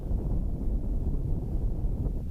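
Wind gusts across a bare, snowy high mountain pass in the Alps, a steady low roar buffeting the microphone without a break, loud and close, with no voices.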